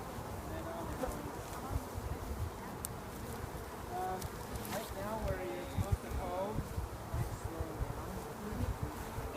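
Honeybees buzz in a steady, dense hum around an opened beehive during an outdoor hive inspection, while people talk quietly over the drone.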